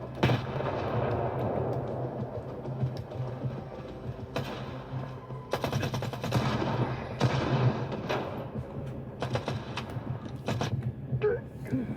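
Grenade explosions in the video game S.T.A.L.K.E.R. 2 come as several sharp, loud bursts spread across the stretch, each a broadband blast over a continuous low rumbling game ambience, with no talking.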